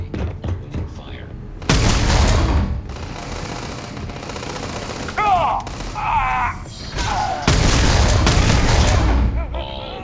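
Starfield video game combat with heavy bursts of gunfire and booming blasts, loud and close, broken by short pauses and electronic sweeps between volleys.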